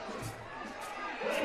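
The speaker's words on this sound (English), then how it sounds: "And the crowd getting into it." Crowd noise at a West Texas A&M women's volleyball match against Texas A&M-Kingsville, a steady murmur of chatter and cheering that swells slightly near the end.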